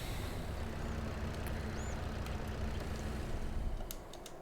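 A tractor engine on a vineyard farm build rumbles steadily as it is driven into place, a dense, constant drone that drops off slightly at the end, with a few light clicks and no talking.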